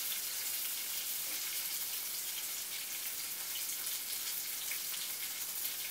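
Stuffed brinjal sautéing in oil in a pan gives a steady, dense hiss of frying that holds at an even level from start to finish, with no talking.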